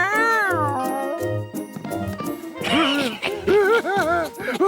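A cartoon cat meows several times in a row, the meows upward-bending and close, mixed with a playful musical soundtrack and scattered effects.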